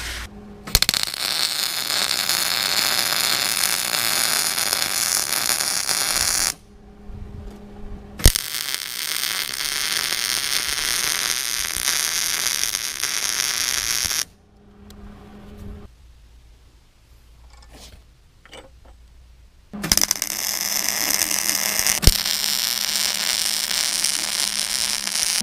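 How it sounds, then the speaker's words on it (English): Three steel pieces of a shift fork for a Minneapolis-Moline 445 tractor prototype are welded together, a loud, continuous crackling hiss in long bursts broken by a few quiet pauses. "next step now is to weld these three pieces together,"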